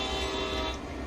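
A passing train in the Train Sim World 2 game on Sand Patch Grade, a loud, continuous rumble with a steady tonal hum throughout.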